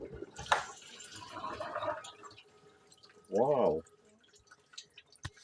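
A dishwasher opened while running gives off faint splashing and dripping water sounds, with people talking quietly and a voice briefly exclaiming over the background.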